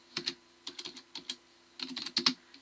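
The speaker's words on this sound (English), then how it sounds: "And type in net user and the user's name." A short burst of computer keyboard typing enters a command, quick close key clicks in two clusters separated by a brief pause, alone without speech.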